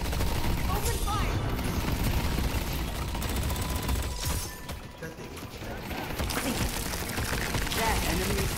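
Rapid gunfire crackles through a Deadlock video game battle, dense bursts of shots running almost continuously, with a brief lull before the shooting picks up again loudly.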